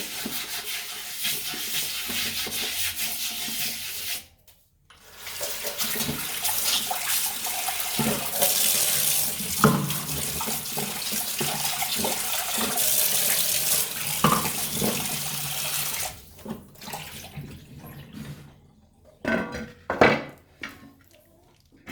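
Tap water runs steadily over an iron kadai being washed and scrubbed, with rubbing and scraping sounds, a brief pause in the flow, then splashes and clatter near the end.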